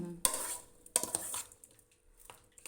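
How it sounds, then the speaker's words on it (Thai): A spoon stirs and tosses a spicy Thai glass noodle salad with pork sausage in a bowl, giving a few sharp scraping clinks followed by softer wet mixing sounds, close and with no talking. "ใส่ลงไปก็คนเลยจ้ะ"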